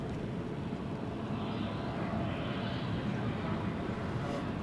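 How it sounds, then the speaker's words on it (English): Flight 491 from Tucson, a Dash 700 airliner, arrives at Dallas Love Field. Its steady, broad engine roar is heard from a distance and holds constant throughout, with no clear voices over it. "Here comes flight 491 from Tucson, Arizona. A Dash 700."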